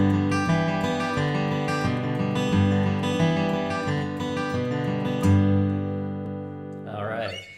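A flatpicked acoustic guitar plays an intro, with dense cross-picked notes over a walking bass line. It rings out full and close, then stops near the end.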